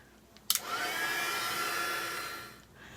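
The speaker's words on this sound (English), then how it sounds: "we're going to use this embossing gun" An embossing heat gun switches on with a click and blows hot air in a steady, close whooshing whine that holds for about two seconds before winding down.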